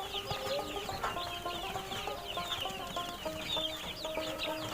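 A brood of freshly hatched Tiger and Fayoumi chicks cheeps continuously at close range, many overlapping high peeps forming a busy, even chatter without speech.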